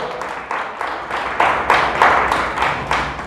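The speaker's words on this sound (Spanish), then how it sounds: "Dele fuerte el aplauso a Dios" A church congregation claps in strong unison during a Spanish-language service, a series of rhythmic, fairly loud bursts of applause building steadily over a few seconds.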